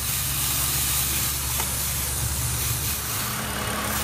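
Aerosol cleaner sprayed onto a car's mass air flow sensor, a steady loud close hiss that runs unbroken for several seconds, with no talking.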